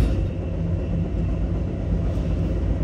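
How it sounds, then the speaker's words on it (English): A Metra commuter train on the Milwaukee West Line, heading out of Chicago Union Station, rolls along with a steady, dense low rumble and constant rail noise heard from on board, without talk. "I'm on the Metra 5:23 p.m. departure from Chicago Union Station."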